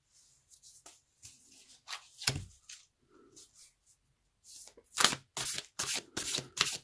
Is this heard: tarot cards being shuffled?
yes